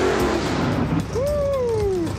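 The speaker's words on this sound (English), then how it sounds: "I drive a 66 Chevy 2 Nova, all aluminum small block," A 1966 Chevy II Nova with an all-aluminum small block and nitrous at a drag race, its engine revving hard then sweeping up in pitch in a loud, close pass lasting a couple of seconds.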